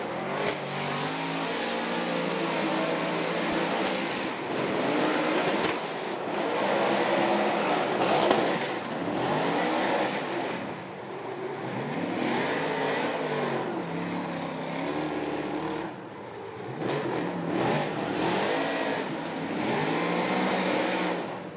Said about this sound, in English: enjoy the sound of that X-Force exhaust, and of course the Ford Performance engine